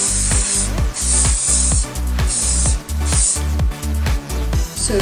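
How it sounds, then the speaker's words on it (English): Hair spray is sprayed onto hair in repeated loud, close, hissing bursts, with several pulses in a row, while a low rhythmic thumping runs underneath. "So you're just gonna spray it"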